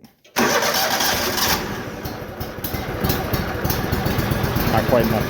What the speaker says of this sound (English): I normally put the choke all the way up in the throttle about half when I first start it